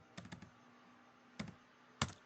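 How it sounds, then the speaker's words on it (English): Short bursts of typing on a computer keyboard while entering numbers into floor plan software, three clusters of quiet, close keystrokes separated by pauses. "do the last one by typing 3000"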